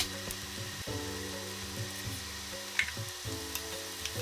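Onions and okra (bhindi) sizzle and fry together in a pan, a steady close crackle with a few soft stirring knocks and scrapes scattered through.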